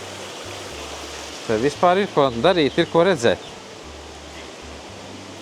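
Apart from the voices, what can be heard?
waterfalls and fountain in grottos at Villa Gregoriana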